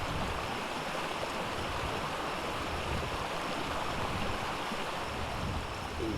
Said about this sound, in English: no little nice little creek here. And the waterfall's not so loud that it drowns you out.